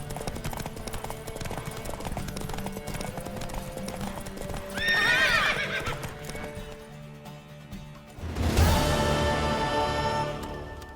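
In The Witcher 3: Wild Hunt, horse hooves clip-clop steadily as a mare neighs loudly twice, the second whinny sharper and closer.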